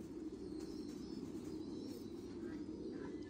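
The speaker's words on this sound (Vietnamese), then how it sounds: "Như mọi người thấy trên màn ảnh là chim bồ câu sinh sản này" Thai Titan breeding pigeons cooing at a pigeon farm, with soft, faint coos over a steady low hum of background noise.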